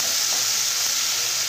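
Tomato fries in a hot pan with a loud, continuous sizzle and steady hiss close up, with no talking.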